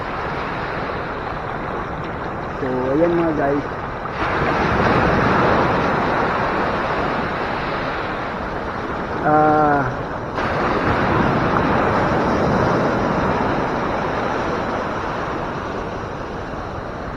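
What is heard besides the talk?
ocean waves on a beach in Zambales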